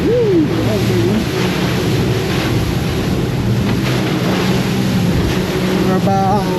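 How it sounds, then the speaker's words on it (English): Boat crossing the Florida Gulf toward the Atlantic in rough water, a steady loud roar of engine, wind and spray with waves slamming the hull, a voice calling out briefly near the start. "Just breaking on the waves."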